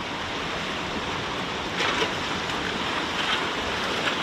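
Waterfall on Bluecut Cajon Creek rushing in a steady, broadband roar that fills the scene alone, with a slight swell partway through, heard from fairly close by.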